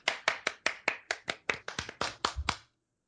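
Hands clapping: about a dozen sharp, close claps in a quick, slightly uneven rhythm, heard alone and then stopping abruptly.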